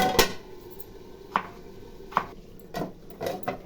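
A lid clinks onto a pot of chicken masala curry, with several sharp metallic clicks and clatters spaced across a few seconds against quiet kitchen background noise.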